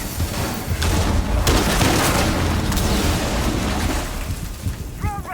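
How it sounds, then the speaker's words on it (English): A grenade blast in Rainbow Six Siege during an Xbox league playoff match, a loud booming burst with rumbling debris that swells and lingers for several seconds before a voice breaks in at the end. "Here comes the grenade to try and clear him out from above"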